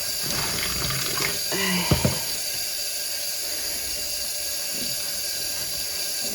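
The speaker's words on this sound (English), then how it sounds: "I'm just going to keep rinsing this until the water runs clear." Tap water runs steadily over ice-dyed yarn being rinsed in a sink, with a few short splashes and knocks as the wet yarn is handled.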